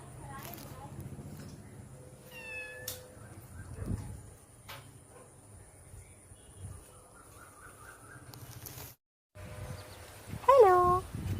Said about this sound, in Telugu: చిన్నారి పిల్లి.